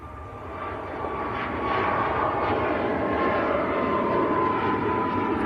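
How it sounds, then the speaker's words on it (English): A Ryanair jet airliner lifts off at Manchester Airport, its engine roar steady and loud as it builds and holds through the take-off run. "Right, Ryanair just lifting off, and then I think the Emirates should be lining up."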